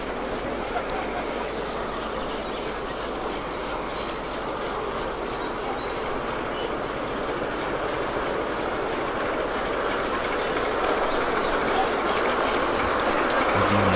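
A steam locomotive hauls a fully loaded passenger train of children at a busy April railway event in Osnabrück, a steady loud rolling rumble and wheel clatter that slowly swells as it draws nearer, no clear talk.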